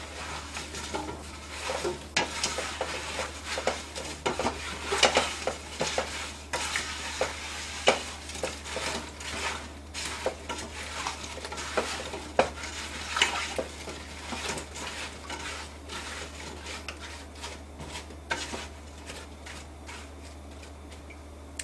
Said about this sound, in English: I'm going to stir this all up and we're going to bring this to a boil.